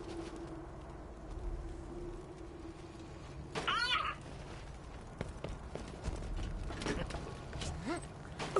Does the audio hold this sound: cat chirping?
yes